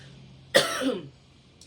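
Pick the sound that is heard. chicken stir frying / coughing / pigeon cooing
coughing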